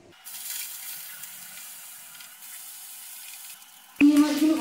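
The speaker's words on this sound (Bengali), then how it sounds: "এই তেলে চিংড়ি মাছগুলোকে ভেজে নেব।" Shrimp fry in hot mustard oil in a kadai, a steady close hiss of sizzling that runs throughout, with a louder clatter and burst of crackling near the end.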